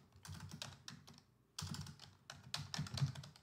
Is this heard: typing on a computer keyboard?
yes